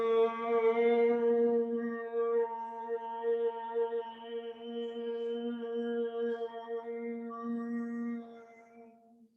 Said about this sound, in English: breathe out with the sound of a Bhramari Pranayama